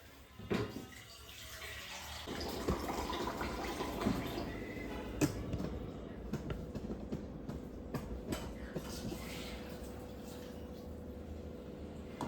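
Water pours steadily into a pot with a continuous rushing splash that lasts several seconds, close and fairly loud, with no talking.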